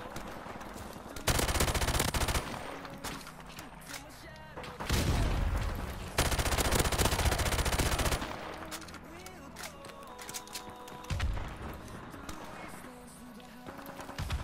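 Gunfire from a G36C rifle in a free-for-all Call of Duty Modern Warfare match comes in loud, repeated bursts separated by quieter gaps, set against game sounds and some talk.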